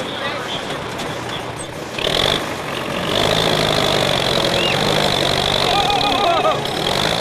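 A tractor engine runs at a steady idle-to-working drone while pulling a stuck car out at a muddy rally stage, with the load rising partway through, under crowd noise and chatter.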